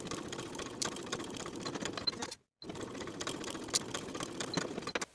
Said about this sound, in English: Sew both seams with a 1/2 inch seam allowance